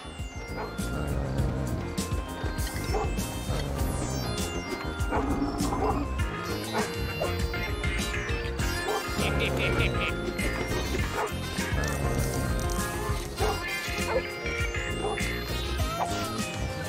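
A dog barks repeatedly in the LEGO City Undercover video game, with loud, close yips and woofs mixed into busy game sound and music, and a voice speaks over parts of it.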